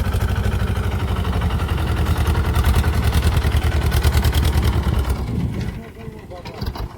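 A tractor engine runs loudly and steadily nearby with a throbbing low rumble, easing off toward the end, while people talk over it.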